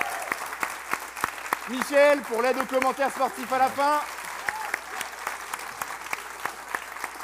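An audience claps for Brice at a talk about gladiators, a regular patter of claps running through the whole stretch while someone speaks over it in French.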